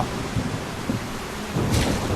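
Steady rain with rumbling thunder in the survival video game Solarpunk, set on a floating sky island; a constant wash of rainfall carries low rolls of thunder and one sharper crack near the end, with no talk.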